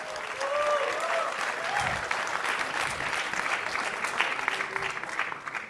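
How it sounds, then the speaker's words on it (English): A crowd applauds steadily for several seconds at a leadership conference, a dense wash of clapping that holds at an even level, with a voice briefly audible underneath. "Let's just welcome them once again with huge round of applause."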